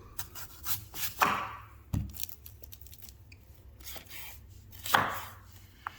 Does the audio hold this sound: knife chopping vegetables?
yes